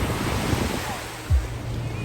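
Sea waves washing onto a beach in Mersin on a hot day, a steady surf roar with wind buffeting the microphone and one brief louder wash partway through, no talking.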